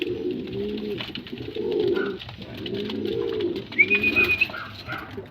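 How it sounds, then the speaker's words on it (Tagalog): Pet racing pigeons coo close by, repeating a low rolling coo about four times in a steady rhythm, with a faint higher chirp near the end. "So yan mga kalapatids, yan ang aking update sa ating mga alagang pasaway."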